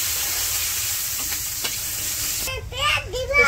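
Onion and green chilies sizzle steadily in a hot pan, a continuous frying hiss that swells with a burst of louder spattering as they hit the oil in a village kitchen.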